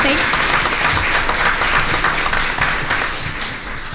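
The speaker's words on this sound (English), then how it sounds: "another round of applause for our 4 second graders" Audience at a school board meeting clapping for four second graders, loud sustained applause that tapers off toward the end, with some talking mixed in.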